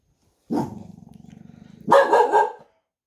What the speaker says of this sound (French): mon chien est en train d'aboyer